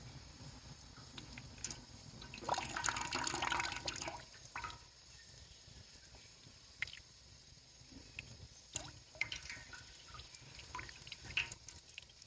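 Water splashes and drips while plants are watered outdoors, a louder pouring burst early on followed by scattered faint drips and trickles, quiet and close with no talking.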